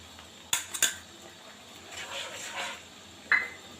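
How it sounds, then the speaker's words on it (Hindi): Chopped tomatoes and ground green chillies tipped into a pan for beef kofta curry, with a few sharp clinks of utensil against cookware followed by soft stirring and a final clatter. "इस टाइम पर आकर इसके अंदर हम ये 2 टमाटर जो कटिंग किए थे ये डालेंगे"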